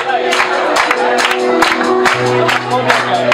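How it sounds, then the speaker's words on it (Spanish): A concert crowd at a live rock show claps along in a steady rhythm, the hand claps sharp and regular under loud amplified music, with shouting voices mixed into the din. "¡Todo el mundo dando palmas!"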